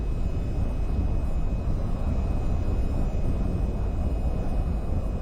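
Steady, loud jet engine rumble from an F-45B taxiing toward the runway in the VR flight game VTOL VR, continuous and unbroken with no voices.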